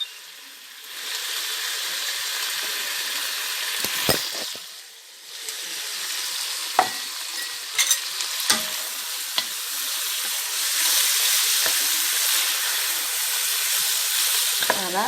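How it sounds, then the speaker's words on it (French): Veal sizzles in a hot pan as it browns, a steady bright frying hiss with occasional stirring scrapes and clinks, close and alone. "je fais revenir ma viande"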